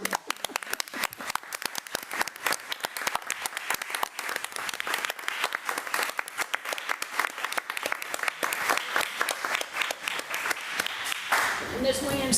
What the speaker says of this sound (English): I think we ought to give the school district a round of applause